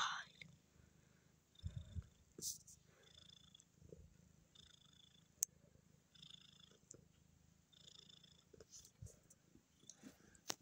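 Soft, low rhythmic purring from a cat close by, with faint rustles and occasional quiet clicks in between.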